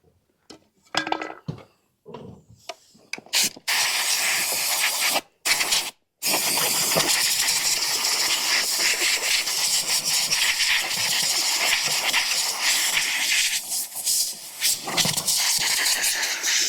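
Compressed air hisses steadily as it blows out the seed hoppers of a John Deere 7200 vacuum planter, a loud continuous rush after a few short clanks and brief bursts at the start.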